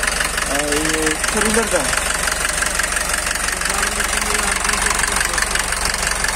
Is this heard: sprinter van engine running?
yes